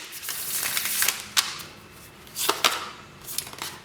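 Oracle cards are shuffled by hand in a few quick, crisp bursts of papery riffling and slapping, close and fairly loud against a quiet room.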